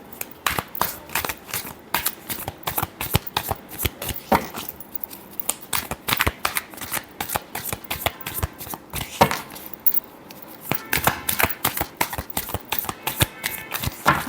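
Tarot cards shuffled by hand in a steady run of crisp riffling flicks and slaps, close and fairly loud, with a brief lull partway through and no talking.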